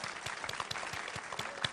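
Applause from a family team on a children's TV game show, quiet and somewhat distant, with a regular pulse of thumps under the clapping.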